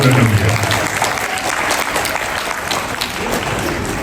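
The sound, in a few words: audience applause at Lunar New Year event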